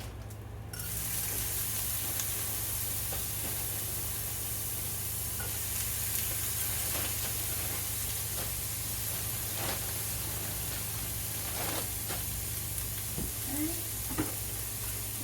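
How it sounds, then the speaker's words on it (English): Mild peppers sizzling in a pan, starting with a sudden hiss as they go in and then holding a steady close frying crackle with occasional louder pops and light stirring, no voices. "gonna throw in some of these mild peppers"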